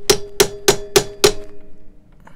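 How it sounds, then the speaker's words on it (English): Five sharp, ringing hammer blows in quick even succession, knocking the cutter head out of a DeWalt DW735 planer, close and loud with a metallic ring, then quiet. "I'm going to try to bang it out with that"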